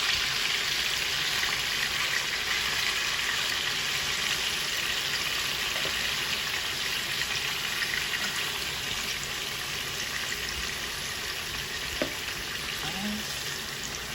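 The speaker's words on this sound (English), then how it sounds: "So I'm just going to be browning these." Oxtail pieces sizzle and fry steadily in a hot pan while browning, a dense continuous crackle that stays loud and even throughout with no talking.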